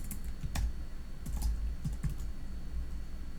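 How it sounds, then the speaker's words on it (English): Quick, close keystrokes on a computer keyboard as a web address is typed, irregular clicks and taps over a few seconds with no talking. "I'm going to type that scifinder.cas.org"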